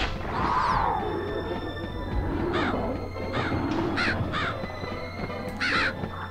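Crows cawing in the PS1 game MediEvil, several harsh caws repeating at irregular intervals over a constant low ambient drone, fairly close and clear.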